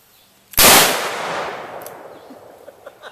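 A single gun goes off close by, a loud, sharp blast whose echo trails away over a couple of seconds into quiet.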